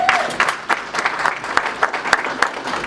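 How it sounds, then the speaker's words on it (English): Audience applause at the Zim Excellence Awards 2018 ceremony: a dense, steady wash of close clapping from a crowd that holds for about three seconds without talk. "I think she deserves a round of applause"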